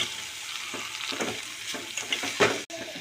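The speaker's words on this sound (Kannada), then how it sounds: "ಸಾಂಬಾರು ಕುದೀತಾ ಇದೆ ನೋಡಿ" Sambar bubbles and hisses in a pot as squeezed dill greens are stirred in, a steady close sizzle with a few scraping strokes and a sharp clink near the end.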